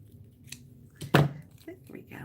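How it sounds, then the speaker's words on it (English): Scissors trimming the side of card for a handmade flower card, a few soft close snips with one sharper cut, mixed with quiet talking. "I think the side needs to be trimmed a little bit more."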